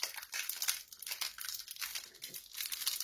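A thin plastic sleeve holding Pokémon promo cards crinkles and rustles as it is opened, close and crisp in repeated short scrunching bursts with no talk.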